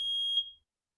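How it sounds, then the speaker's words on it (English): A smoke alarm across a room sounds one shrill, steady electronic beep for about half a second, then cuts off into silence. "But now if the smoke alarm goes off across the room"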